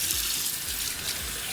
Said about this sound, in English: we're gonna rinse it off with cold water.